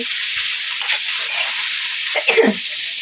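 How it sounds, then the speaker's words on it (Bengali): Maggi noodles are stirred as they fry in a pan, giving a loud, steady sizzle and hiss, with a few scraping stirs near the end. "এবার এটার মধ্যে আমি চাউমিন ম্যাগিগুলো দিয়ে দেবো। দিয়ে নেড়ে চেড়ে নিলেই"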